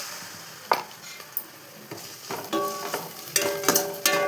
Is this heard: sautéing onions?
yes